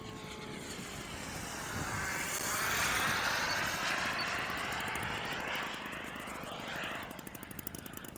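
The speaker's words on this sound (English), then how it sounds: "Great airplane. Flies very nice, Charlie" A propeller airplane flies past, its engine drone loud and steady, swelling in the middle as it passes and then easing off, with no talk over it.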